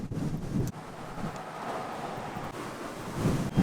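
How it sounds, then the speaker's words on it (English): Wind blows hard across a hilltop in San Francisco, a steady broadband rush buffeting the microphone, with louder gusts near the start and end and no voices. "It's definitely gotten windier."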